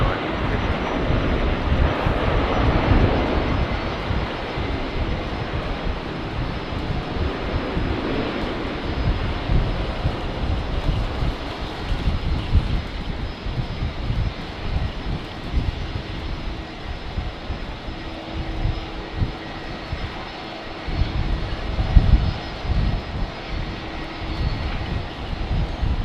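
An airliner landing on runway 19 right at Brisbane Airport on a windy day, a steady broad jet engine roar with wind buffeting, continuous and moderately loud throughout.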